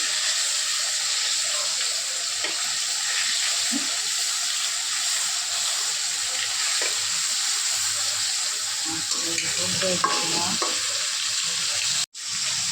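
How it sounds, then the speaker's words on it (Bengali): Fish frying in hot oil in a pan, a steady loud sizzle that runs the whole time with a few soft clinks and stirring sounds as the pieces are turned, then a brief cut near the end. "মাছটা হয়ে গেছে, আমরা মাছটা উল্টে দিব"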